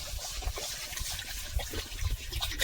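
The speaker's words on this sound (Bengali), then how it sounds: "এবার কড়াতে ফের জল দিয়ে দিচ্ছি ডালটা সিদ্ধ করার জন্য" Water poured into a kadai for boiling dal, a continuous close splashing trickle with uneven gurgling pulses throughout.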